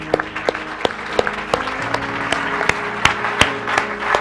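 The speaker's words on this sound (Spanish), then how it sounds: "Dale un aplauso fuerte al Rey." Church congregation applauding loudly and steadily for several seconds, sharp individual claps standing out over a dense crowd clatter after a closing prayer.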